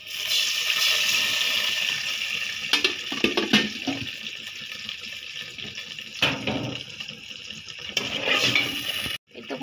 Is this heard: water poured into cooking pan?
yes